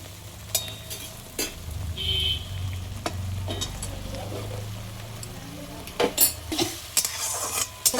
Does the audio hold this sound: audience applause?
no